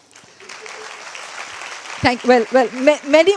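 Audience applause at a TEDx talk in Dhaka builds as a rising, steady clatter of clapping, with a speaker's voice cutting in over it toward the end.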